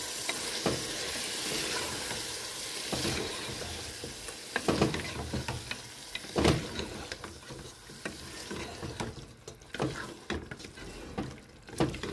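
Chicken pieces fry in a spiced masala in a home kitchen, with a steady sizzle broken by repeated stirring and scraping strokes that swell and fade; some faint background clatter, no clear talk.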